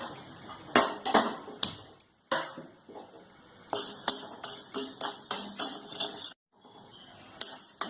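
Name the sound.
dry-roasting rice and black pepper in a pan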